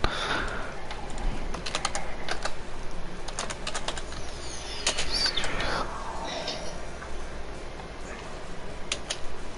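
Computer keyboard keys click in quick, uneven bursts during a podcast recording. The typing is fairly faint and continuous, with no talking over it.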